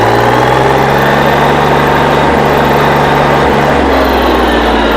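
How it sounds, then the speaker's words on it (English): A Kubota L225 tractor engine runs steadily and loudly nearby, a constant throbbing drone with a slight shift in pitch partway through. "So now I got the clutch all the way released, and the tractor drives on itself."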